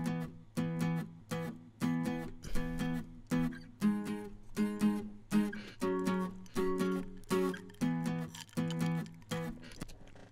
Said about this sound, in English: these are the things that are carrying the actual chord progression of the song.